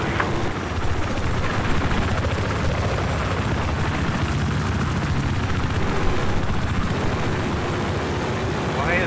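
A helicopter in the Battlefield 4 video game flies over a capture point, its steady rotor drone filling the whole stretch at constant loudness with game noise mixed in.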